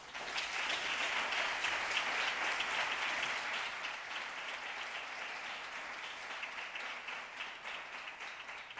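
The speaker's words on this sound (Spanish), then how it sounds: "Y creo que ella se merece un fuerte aplauso." Steady applause from a graduation ceremony audience, many hands clapping evenly and moderately loud throughout, slowly easing off toward the end with no talk over it.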